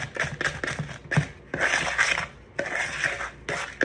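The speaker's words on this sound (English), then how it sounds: "I just like to go through with a little spoon and just make sure that everything is crushed." A little spoon crushes crumbs in a dish, giving crisp, scraping crunches in uneven bursts with brief metallic clinks between them, close and fairly quiet with no talking.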